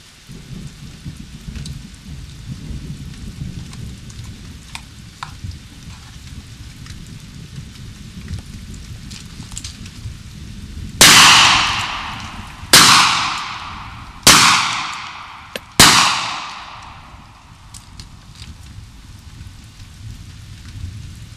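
Lehigh Defense 45 Colt multi-projectile rounds are fired four times at a steady pace, each sharp, loud blast trailing off in a long echoing decay, with a quiet outdoor background in between.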